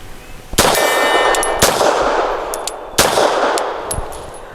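Four sharp, loud shots from a Bersa TPR 380 Plus pistol ring out at uneven intervals, each with a metallic ringing tail, fired at an outdoor range.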